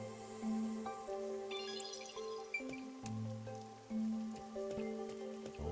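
Rain in the video game Rain Code, with scattered drips and patters under sustained, droning background music tones, fairly quiet and steady with occasional sharper drops.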